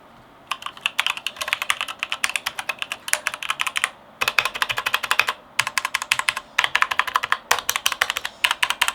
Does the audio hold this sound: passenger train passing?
no